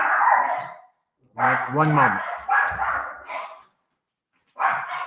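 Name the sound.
dog barking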